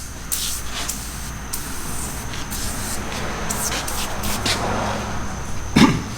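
Short hissing bursts of Super Clean degreaser sprayed onto a 4.0 car engine, several separate spritzes at close range, broken by quiet gaps and a small clunk near the end.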